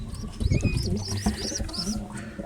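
Pigeons coo repeatedly on a rooftop terrace under renovation, a series of soft rolling calls with a higher chirp early on, moderately close over low background rumble and no talk.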